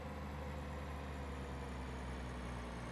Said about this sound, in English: Engine braking for the win.